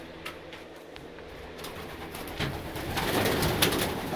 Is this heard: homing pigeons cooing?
yes